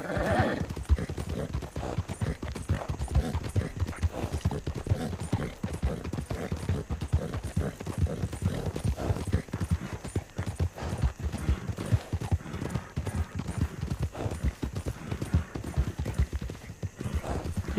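Horse hooves clip-clop rapidly and continuously at a fast gallop, a dense rhythmic thudding that carries on steadily and fairly close, with no talk over it.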